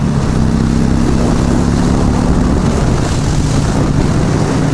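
A motorcycle fitted with a steering damper cruises on a highway near Charlotte, North Carolina: a loud, steady engine drone under heavy rushing wind noise, continuous and close.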